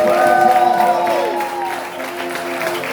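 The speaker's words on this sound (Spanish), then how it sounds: "Dale fuertes aplausos a Dios" A church congregation applauds loudly during a worship service. The steady wash of clapping and crowd noise sits over sustained musical tones throughout.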